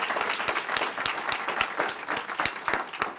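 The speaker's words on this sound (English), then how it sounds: "I really want to get a very warm round of applause for Harry Wells" Dense, steady applause from an audience at an international trade breakfast, many hands clapping close together and filling the room at an even level throughout.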